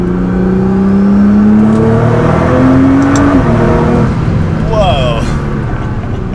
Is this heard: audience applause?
no